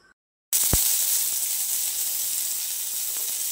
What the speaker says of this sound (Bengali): একে একে আমি সব সবজিগুলোকে ভেজে নেব।